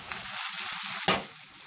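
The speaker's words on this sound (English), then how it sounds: "let it fry itself good" Food fries in a pan with a steady broadband sizzle, broken by a sharper burst of crackling as more is added or stirred, then settling back into a continuous hiss.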